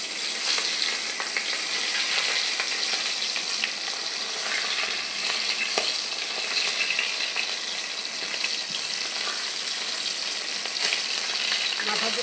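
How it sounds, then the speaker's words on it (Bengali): Two hilsa fish heads rubbed with salt and turmeric fry in oil in a kadai, giving a loud, steady, unbroken sizzle throughout. "ওই তেলে আমি দুটো ইলিশ মাছের মাথা লবণ হলুদ লাগিয়ে ভেজে নেব।"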